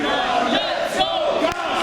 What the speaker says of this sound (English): The crowd trying to rally behind Ivan